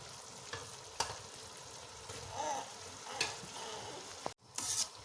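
Rice goes into hot sugar syrup in a pan for sweet zarda rice, giving a quiet sizzle broken by soft scrapes and clinks of a spoon, with a brief pause near the end.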